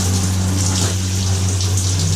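A hot water shower runs inside a Sprinter van, a steady close hiss of spray over a low, constant pump hum with no pauses.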